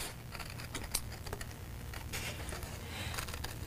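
Scissors cut a paper cupcake shape, producing a quiet, irregular run of small crisp snips and paper rustles.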